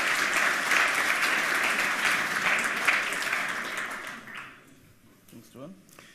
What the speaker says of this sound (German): einen herzlichen Applaus für Apex und XIF